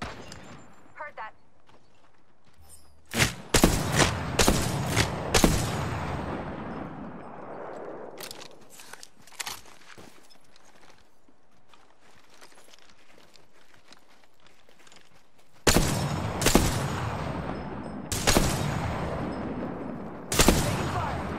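Rapid bursts of automatic gunfire in a first-person video game shooter, loud and close, arriving in clustered volleys with quieter gaps of movement and footsteps between them, and a voice talking over parts of it.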